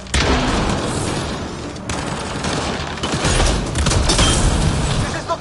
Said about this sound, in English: It's a gunfight in the gun battery then.